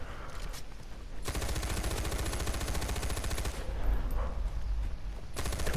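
Rapid automatic gunfire in the video game Far Cry 4, loud, dense bursts of shots firing continuously with a brief pause and then more sustained fire, with no talking.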